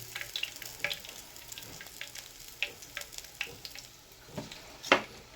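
Olive oil sizzles steadily at close range while frying, with scattered sharp pops and crackles rising above a quiet hiss.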